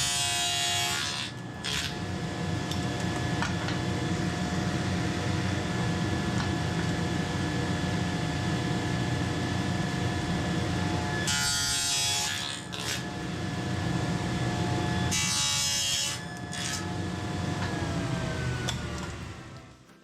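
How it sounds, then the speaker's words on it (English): A power saw cuts box joint slots in wood using a shop-made jig, a loud continuous whining buzz with two short pauses where the cut breaks off and resumes. "So now we're going to cut slots now across the bottom of this, just like before."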